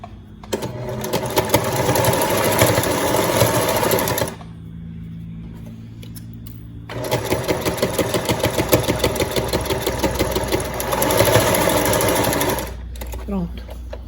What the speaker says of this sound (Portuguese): Nesse outro lado aqui eu vou fazer a costurinha reta para vocês verem como é que fica.